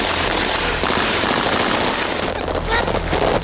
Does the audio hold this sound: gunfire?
yes